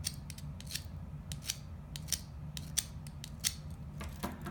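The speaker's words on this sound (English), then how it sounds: "carefully scratch the rock with a knife blade" Knife blade scratching across a rock in a hardness test: a series of short, close, crisp scraping strokes in an irregular rhythm over a low background hum.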